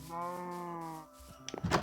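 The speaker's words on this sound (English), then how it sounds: "That's a cow." A cow lowing in Minecraft, one drawn-out moo that fades, followed by brief clicks and shuffling, fairly close and moderate in volume.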